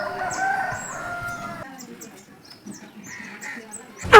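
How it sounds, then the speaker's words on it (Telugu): Village chickens and a rooster call on a cold winter morning: a nearby crow and clucking open the stretch, then fainter scattered bird calls follow, ending on a sudden loud knock. "కోడి పక్షి నన్ను ఎలా వెల్కమింగ్ చేసేసాయో మీరు కూడా చూడండి"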